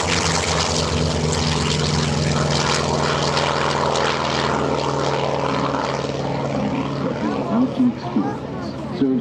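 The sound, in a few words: propeller-driven F4U Corsair World War II piston aircraft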